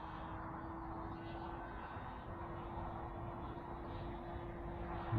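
A remote-control model aircraft engine drones steadily in flight at a distance, a faint, continuous buzz holding one pitch throughout without talk.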